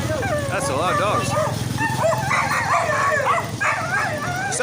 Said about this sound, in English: we got a lot of doggies